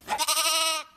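A single sheep bleat, loud and close, one wavering cry held for almost a second before cutting off.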